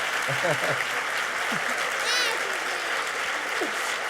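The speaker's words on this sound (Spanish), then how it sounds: "Ángel Luis, un aplauso grande para él." A large crowd claps steadily throughout at an education conference, dense and sustained, with a few voices and whistles cutting through the applause.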